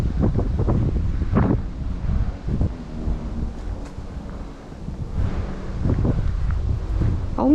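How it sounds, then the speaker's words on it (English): Gusty wind buffets the microphone during a dog walk through Apley Woods in Telford, rumbling loudly and steadily in waves with occasional stronger blasts. "Might be a bit windy."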